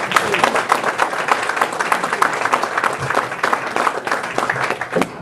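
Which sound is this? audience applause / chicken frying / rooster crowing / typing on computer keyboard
audience applause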